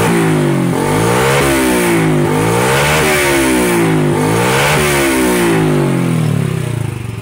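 A Raider J110 motorcycle engine, whose ignition and charging system are being checked, revs up and down repeatedly to full RPM, loud and close, in a rising and falling pattern with no pause for over seven seconds.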